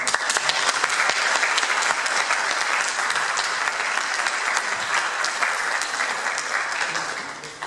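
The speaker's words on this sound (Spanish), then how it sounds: "Les pido un fuerte aplauso." An audience gives a lecturer a strong round of applause, a loud and sustained wash of many hands clapping that holds steady for several seconds before easing off at the end.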